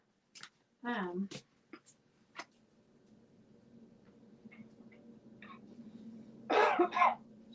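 A few short coughs and throat clearing sound nearby, followed by quiet breathing and soft background hum, then two louder coughs near the end.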